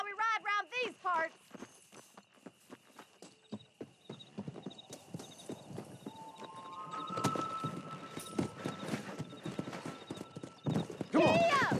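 Horse hooves clip-clopping in Red Dead Redemption Remastered at the start of a horse race, a horse whinnying, then rhythmic hoofbeats picking up speed under background music and game ambience.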